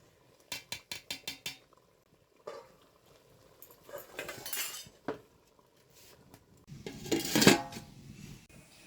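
A pot of chicken biryani is lifted off a home stove and covered with its lid, giving a quick run of metallic clinks and clatter, then scraping and a louder lidded clank near the end, with no one talking.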